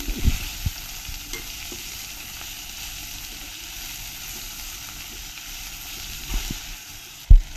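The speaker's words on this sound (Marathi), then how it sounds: "कोथिंबीर थोडीशी परतून घेऊ।" Fresh coriander sautéing in a pan gives a steady soft sizzle, with a few scrapes and a knock from stirring at the start and end.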